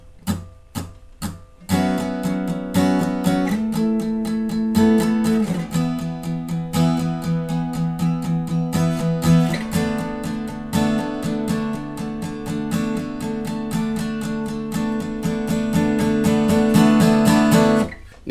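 Acoustic guitar strums power chords through the bridge of a song, steady rhythmic downstrokes that sustain and build, close and alone without voices.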